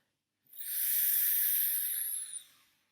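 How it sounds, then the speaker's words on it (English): A long, steady inhalation during a singing warm-up exercise, a soft airy hiss close to the microphone lasting about two seconds, then trailing off into quiet. "So breathing in."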